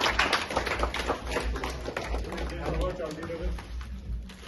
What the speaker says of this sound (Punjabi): ਪਜਾਓ ਤਾੜੀ ਸਾਰੇ ਜਣੇ ਸਭਾ ਦੇ ਨਾਂ ਤੇ